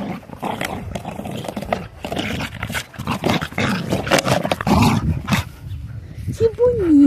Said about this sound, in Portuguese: Quando esse cachorrinho fica animado. Tá tudo amassadinho a latinha dele e ele ainda está animado.